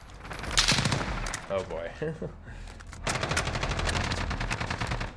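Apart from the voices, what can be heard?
MG36 machine gun firing in Call of Duty Modern Warfare video game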